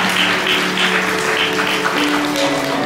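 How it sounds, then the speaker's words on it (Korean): Wedding guests in a hall applaud the bride and groom as they bow to their parents, a steady wash of clapping lasting the whole stretch, with faint music or tones running underneath. "여러분들 큰 박수 부탁드리겠습니다."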